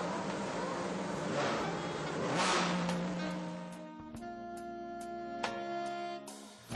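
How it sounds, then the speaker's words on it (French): Ferrari V12 at Mugello circuit, a mid-pitched engine drone that swells and eases, then holds a steady harmonic tone broken by short sharp clicks near the end, moderately loud and unaccompanied by talk. "quoi de mieux qu'une petite thérapie au son du 12 cylindres"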